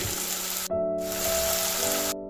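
Grated paneer sautéing in spiced oil for a cauliflower and potato curry, a bright continuous sizzle that runs throughout, briefly broken, with a faint steady tonal hum underneath.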